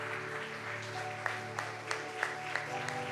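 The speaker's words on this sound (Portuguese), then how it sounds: "Vamos aplaudir mais uma vez a palavra de Deus" A church congregation claps along over sustained organ or keyboard chords, with a handful of sharp, evenly spaced claps standing out above a quiet musical backdrop.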